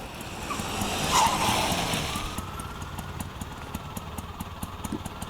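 A car pulls to a stop and its engine settles into a steady idle. A brief swell of road noise and braking fades into a low, even, rapidly ticking engine hum.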